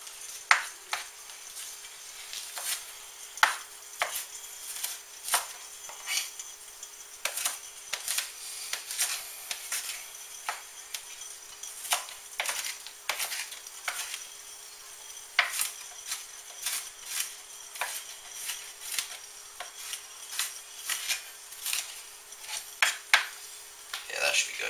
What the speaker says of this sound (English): Get that hamburger, get it nice and browned up. Like I said, we'll cook the onion in there with it.